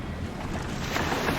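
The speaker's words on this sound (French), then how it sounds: "Le bateau commença à s'éloigner tout doucement." A boat pulls away across the open sea, pushed along by the wind. Steady rushing wind and washing water hold at an even level with no voices.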